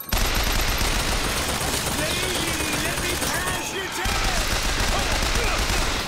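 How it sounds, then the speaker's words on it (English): Sustained, dense gunfire rattles continuously in the video game Bioshock Infinite, loud and unbroken with a brief dip partway through and a player's voice faintly talking over it. "Who is shooting me from behind?"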